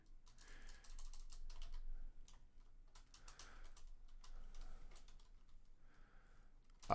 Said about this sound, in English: I can't paste it over, but I'll just type it out